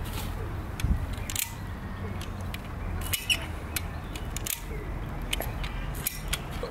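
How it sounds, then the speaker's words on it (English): A slackline ratchet clicks while the line is tensioned, giving a series of sharp, separate clicks spaced a second or so apart over a steady outdoor background. "make sure to control every single click"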